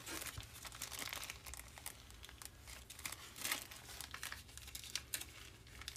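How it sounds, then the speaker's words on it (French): A plastic bag holding a glue mixture crinkles and rustles softly as fingers squeeze and slide the contents toward one corner, making quiet, irregular crackles close up. "tu vas venir avec tes doigts glisser tout le contenu vers un des coins de ton sac plastique"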